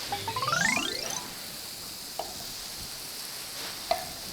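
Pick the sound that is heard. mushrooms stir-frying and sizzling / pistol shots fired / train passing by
mushrooms stir-frying and sizzling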